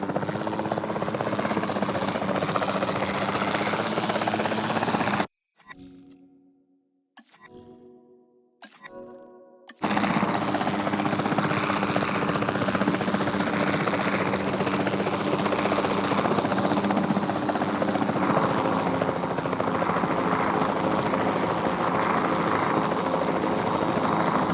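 A capture team helicopter in Jurassic World Evolution 2, set in the Arizona desert, drones with a loud, constant rotor roar. A brief quiet gap near the start breaks it before the roar returns steadily.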